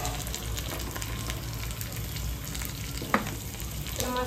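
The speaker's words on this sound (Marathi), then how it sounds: "तर ही फोडणी आपल्याला लालसर फ्राय होऊन द्यायची आहे. लसूण आणि खोबरं लालसर फ्राय झालं की मग आपली फोडणी तयार होईल." Garlic and coconut tempering fries in a pan, giving a steady, close sizzle throughout with one brief utensil clink near the end.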